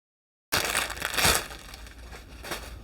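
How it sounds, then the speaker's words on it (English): Loud crinkling and crushing of a stiff crochet project bag, close up, with a burst of rustling around one second and continuing crackles after a brief silence at the start. "a crochet project bag. It's gonna make a lot of noise."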